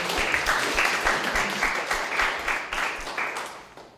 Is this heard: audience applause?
yes